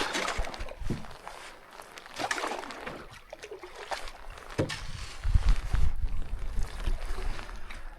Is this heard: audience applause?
no